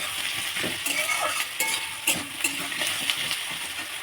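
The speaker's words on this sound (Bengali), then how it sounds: "দেখতে পাচ্ছ আলু পেঁয়াজটা প্রায় ভাজা হয়ে গেছে" Potatoes and onions, nearly done, sizzle steadily in a pan as a spoon scrapes and clinks against the metal now and then, close by and without talk.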